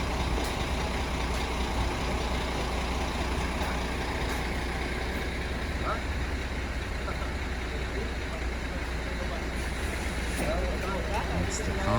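A concrete truck runs steadily at a garage floor pour, its diesel engine giving a constant loud rumble and hum throughout with faint site noise on top.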